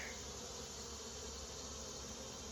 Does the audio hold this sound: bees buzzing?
yes